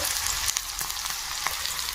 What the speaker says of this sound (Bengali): তেলে পেঁয়াজ লঙ্কা দিয়ে দিয়েছি, ছোট কড়াইতে করব